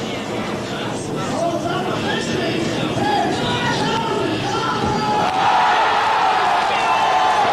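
Crowd at the 1998 ASA skateboarding contest in Las Vegas cheering and whooping loudly after a 720 flat spin, a steady dense roar of many voices with shouts rising near the end.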